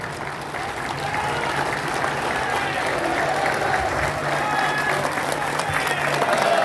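An audience at a Bihar Day celebration in Surat claps steadily and densely, a continuous wash of applause swelling slightly and holding at moderate loudness with a faint crowd murmur beneath.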